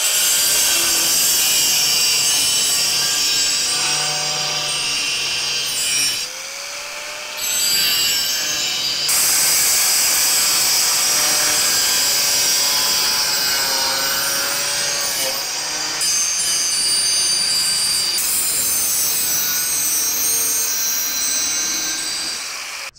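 Sheet metal being cut for a DIY transmission skid plate, a loud, continuous harsh grinding-saw whine with brief pauses between cuts, close and alone without speech.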